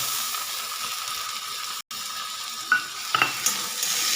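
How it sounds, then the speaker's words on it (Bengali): Close, steady sizzle of chopped tomato cooking in a pan, broken by a short gap, then a few clinks and scrapes of stirring. "এতে আমি দিয়ে দিচ্ছি কেটে রাখা টমেটো কুচিটা"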